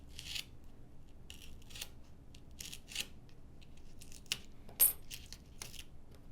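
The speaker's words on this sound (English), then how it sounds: "using a razor blade, let's go ahead and cut along the dotted lines" A razor blade slices foam board along marked lines on a small model aircraft build, giving quiet scattered scraping strokes and light ticks in a hushed room, with one sharper click near the end.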